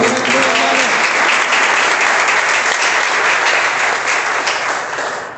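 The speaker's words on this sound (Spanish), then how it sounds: "Un aplauso" Loud, sustained congregation applause at a deliverance seminar in Freehold, New Jersey, dense clapping filling the room and tapering slightly at the end, with a voice faintly beneath it early on.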